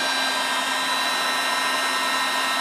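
A heat gun blows steadily, warming a gear stick cover on a car's shift shaft, giving a loud, constant fan-and-air hiss with a fixed hum and no speech.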